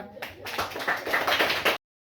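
A group of students clapping together for a classmate in a school maths class, a dense, steady patter of claps lasting under two seconds with some voices mixed in, ending abruptly.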